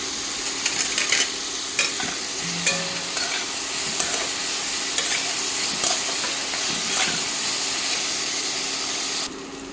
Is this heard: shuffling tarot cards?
no